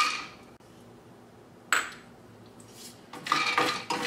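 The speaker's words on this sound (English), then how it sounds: "we'll first add in our peanuts" Peanuts tip from a metal dish into hot oil in a skillet for veg kurma, a sharp clink and scatter followed by bursts of close crackling sizzle, with no talking.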